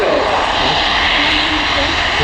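A German Air Force Airbus A400 turboprop transport roars through a maximum-effort takeoff at the RIAT air show, a loud, continuous, dense engine drone filling the whole moment with no letup.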